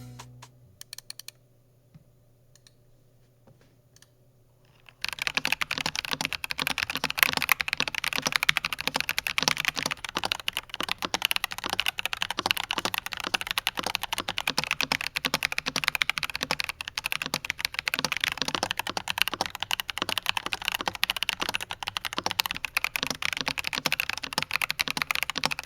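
A Feker IK75 mechanical keyboard fitted with a polycarbonate plate in stock form is typed on, with rapid, crisp, clacky keystrokes running continuously after a few seconds of near silence.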